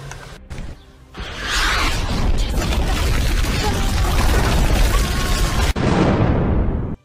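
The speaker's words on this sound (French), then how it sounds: "Au moins, on a échappé à l'explosion." A loud cartoon explosion from an animated fairy series: a sharp burst swells into a long roaring blast and rumble, then cuts off into a fading hiss.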